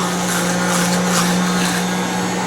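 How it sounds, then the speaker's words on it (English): An immersion blender whips cream with a loud, steady motorized whir and a constant tonal hum, running unbroken and close throughout. "So I have my immersion blender, and from here I'm going to use this to whip up the cream."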